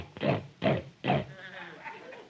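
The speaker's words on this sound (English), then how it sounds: "the snort of the water buffalo" A water buffalo snorts three times in quick succession, each a short, loud, breathy blast, followed by a quieter rumbling grunt tailing off.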